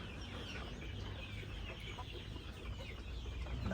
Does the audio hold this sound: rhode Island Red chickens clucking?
yes